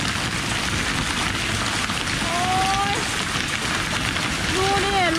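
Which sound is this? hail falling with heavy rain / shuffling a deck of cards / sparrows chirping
hail falling with heavy rain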